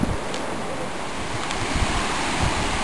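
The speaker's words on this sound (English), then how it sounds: "You see how much white water there is." White water of a river rushes loudly and continuously beneath Wairopi Bridge on the Kokoda Track, a broad steady roar mixed with wind buffeting the microphone, with no talking.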